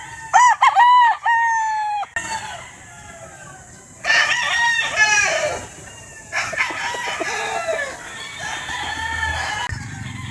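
Boston Black gamefowl roosters of the Escolin line crow loudly in repeated, drawn-out calls, with clucking and other birds calling between them.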